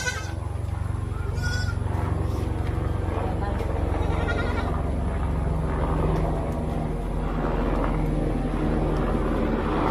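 A baby goat bleating at close range, short cries standing out over steady background noise, with people talking nearby.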